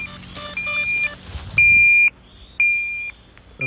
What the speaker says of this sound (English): Can you hear the beep? Let's see. That's where my drone is.